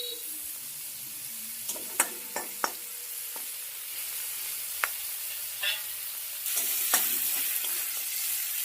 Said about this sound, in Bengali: চিংড়ি মাছটাকে হালকা লাল লাল করে ভেজে নিতে হবে আমিও সেইভাবেই ভেজে নিচ্ছি